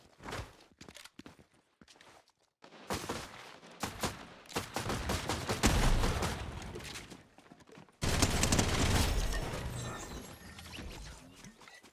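Shotgun blasts and gunfire in the Fortnite video game, a run of sharp, loud shots with clattering mechanical handling and footsteps between, growing into dense, sustained firing in the second half.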